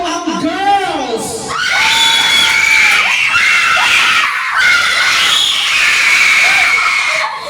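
Girls at a family New Year party scream together loudly and continuously for several seconds, with shrill sustained shrieks rising above a crowd and a brief shout at the start.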